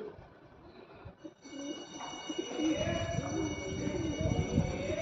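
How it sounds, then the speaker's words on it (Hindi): A pigeon coos softly amid a rainy-season crowd scene, its low repeated calls partly buried under a steady wash of background noise and distant voices. "इस भीड़ में एक कबूतर आ चुका है"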